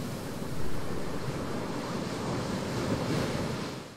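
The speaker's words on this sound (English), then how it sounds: "So if you want some nice relaxing waves" AI-generated ocean waves, a steady broadband roar of surf washing in with a gentle swell in loudness, heard alone with a windy, rushing texture and no voices.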